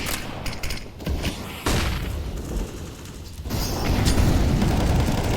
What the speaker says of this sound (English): Nades flying left and right, a mid-sized smoke defensive